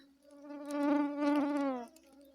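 A mosquito buzzing close by in a forest, a single thin whining drone that swells and fades over about two seconds.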